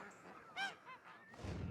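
A farmed goose gives a single faint honk, a brief nasal call standing out over a low, quiet background, with a few softer noises around it.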